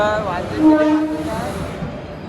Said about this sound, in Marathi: आता ट्रेन आले